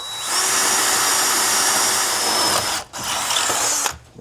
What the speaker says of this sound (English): I'm going to go ahead and drill the 2 holes.